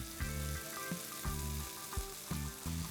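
Close-up sizzling of curd cooking in a hot tempering for dal, a constant crackle broken by periodic stirring scrapes, with no voices.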